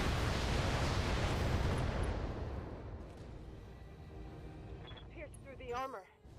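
A mech's torso blows apart in the BattleTech video game, a loud, roaring blast that trails off into a long rumbling decay, followed by fainter mechanical whirs and tones near the end.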